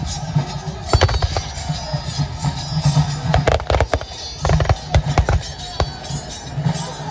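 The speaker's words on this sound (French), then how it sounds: "Les tirs sont maintenant faits en salve directement pour appuyer les mouvements." Musket volleys crack in ragged bursts during a Waterloo battle re-enactment, several sharp reports clustered together over a steady crowd murmur and low rumble in an open field.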